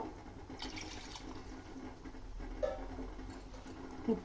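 Water being poured from a glass into a cooker pot for Tamil Nadu-style Ambur chicken biryani, a faint, steady liquid trickle and splash, quiet and close with no talk.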